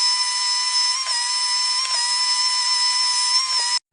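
A steady high-pitched whine with a sustained tonal hum runs unbroken for several seconds, then cuts off abruptly as an engraving machine works on a wooden sign cut from plywood and reclaimed lumber.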